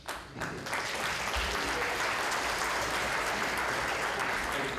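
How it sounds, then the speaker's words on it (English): Steady applause fills a town meeting hall in Wenham, a sustained wash of clapping at even loudness from start to finish with no clear voice over it. "Again, please refrain from applause."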